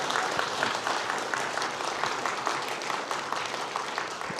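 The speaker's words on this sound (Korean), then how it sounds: "힘찬 박수 한번 부탁드리겠습니다" Steady applause from a church congregation, many hands clapping together in a dense, continuous patter that holds at an even level throughout.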